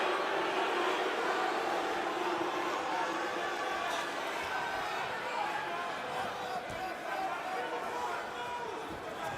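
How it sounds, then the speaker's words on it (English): A large arena crowd at a Bellator MMA fight keeps up a steady, loud roar of booing and babble that fills the whole stretch, with a commentator faintly talking over it. "Pro Rampage crowd is booing for a stand-up"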